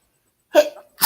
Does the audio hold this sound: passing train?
no